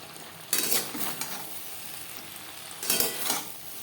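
Okra (bhindi) cooking in a pan on a low gas flame, a faint steady sizzle broken by two short bursts of stirring scrapes.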